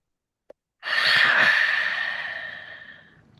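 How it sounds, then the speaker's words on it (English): A sharp, forceful inhalation through the nostrils during traditional hatha yoga pranayama breathing, a single breathy rush that swells quickly and then fades slowly over about two seconds, close and clear with no talking. "Inhale from your nostril."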